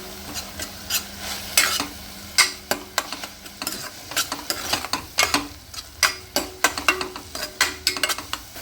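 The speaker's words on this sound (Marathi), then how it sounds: "मी पावडर मसाले घालून घेणार आहे याच्यामध्ये आहे ही धणे जिरे पूड गरम मसाला लाल तिखट आणि हळद मॉडर्न मसाले आपण मिक्स करून घेऊ" Spice powders are stirred into ragda in a pan. A spoon strikes and scrapes the metal in a quick, irregular rhythm over a low simmering sizzle. The stirring is close and prominent, and no voices are heard.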